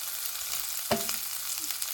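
A mashed plantain mixture cooks over the fire for Ghanaian eto, with a soft background sizzle and one sharp scrape of the spoon near the middle, then a few lighter stirring knocks.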